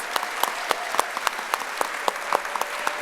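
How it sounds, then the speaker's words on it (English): Audience at a theatre applauding volunteers, a steady patter of many hands clapping at close range, with sharp individual claps standing out throughout. "So would you please give them a big round of applause?"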